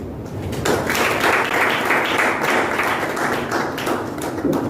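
An audience at a national stakeholder meeting on tobacco control clapping in a dense, sustained round of applause, loud and close throughout.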